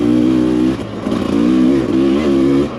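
Several dirt bikes, one carbureted and four throttle-body injected, idle and rev together on a snowy trail ride, a loud steady close drone that dips briefly and surges back.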